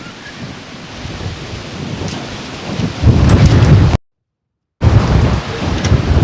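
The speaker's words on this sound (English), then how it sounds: "These windy conditions certainly won't help Power with this bowl" Rough, low buffeting of wind hitting the microphone outdoors at a lawn bowls match, rumbling louder in gusts, with a brief cut to silence before the blustering resumes.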